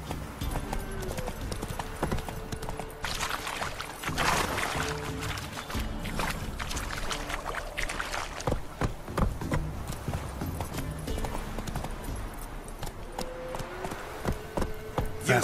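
Roach galloping in The Witcher 3: Wild Hunt on PS4 during a race, with fast, steady hoofbeats pounding under game music and ambient noise, occasional snorts breaking through.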